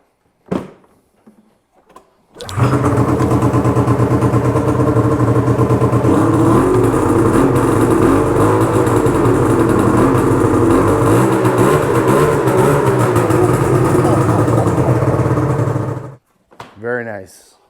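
A 2002 Ski-Doo Mach Z 800 Sport Edition triple-cylinder snowmobile, in a garage, fires up after a few clunks and runs loud and close, revving with a raspy two-stroke drone for over ten seconds before cutting off.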